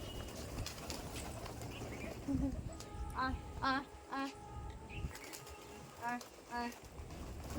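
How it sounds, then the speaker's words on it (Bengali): Pigeons on a rooftop being fed, with a few soft cooing calls in short bursts over faint background noise, some distance from the listener. "এখন দেখো ছাদে এসেছি তো পায়রার জন্য আর কি করব আমার পায়রাকে আগে খাবার দিতে হবে"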